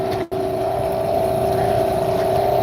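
A houseboat's outboard motor running steadily on the ocean, a loud continuous droning hum with a brief dropout just after the start, close to the microphone with no talking.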